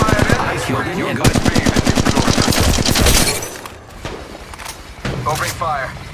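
Rapid automatic gunfire in the Apex Legends Mobile battle royale game, a loud sustained burst of closely spaced shots, then scattered single shots and clatter as a voice speaks over the action.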